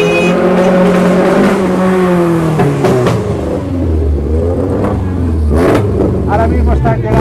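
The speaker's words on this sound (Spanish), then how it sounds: "Como pueden escuchar, ya se van acercando este desfiladero de coches clásicos y antiguos" A parade of classic and vintage cars rolls along a street in San Feliu de Llobregat, engines rumbling and revving close by as vehicles pass, with crowd noise mixed in.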